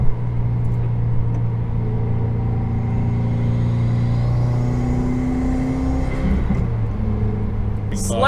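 Subaru WRX fitted with a Cobb intake rumbles steadily from inside the car while driving, a deep droning engine note that shifts in pitch as it downshifts, with a brief voice near the end.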